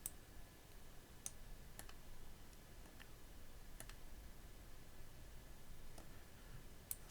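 Sharp, isolated mouse clicks from animating in Blender 2.72b, about eight scattered across a quiet room with a soft steady hiss, some in quick pairs, fairly close and clear.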